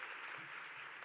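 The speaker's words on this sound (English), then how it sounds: "Please, a round of applause for Meredith." Faint, steady applause from the crowd at a Women in Business chamber of commerce event, a soft continuous patter of many hands honoring the evening's mistress of ceremonies.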